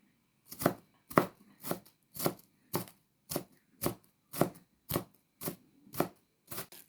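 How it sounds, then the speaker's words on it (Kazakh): A knife chops through onion on a board in about eleven sharp, evenly spaced strokes, close and fairly loud with brief quiet gaps between them and no talk. "Мінекей пиязын турап алдық."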